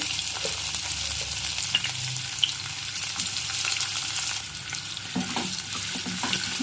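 Chopped onion frying in a tempering of cumin, green chillies and garlic sizzles steadily up close, with stirring scrapes and clinks over the hiss and no talking.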